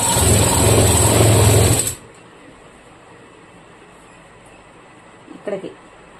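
A sewing machine runs loud and steady for about two seconds while stitching nightie cloth, then stops abruptly, leaving a quiet room with a brief soft knock near the end.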